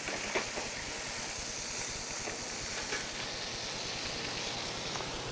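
Steak searing in a pan, a loud continuous hiss and sizzle close up that holds steady throughout, with no talking.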